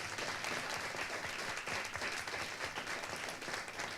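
An audience applauds at an event about labour inclusion for people with intellectual disabilities, with dense, sustained clapping from many hands that stays loud and even throughout.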